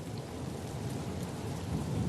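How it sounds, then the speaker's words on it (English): Rain falls in the desert as a steady, dense hiss of drops with a low rumble underneath, continuous and even, with no voices. "You can see rain in the desert."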